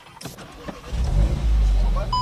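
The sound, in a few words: Volkswagen Golf car engine starting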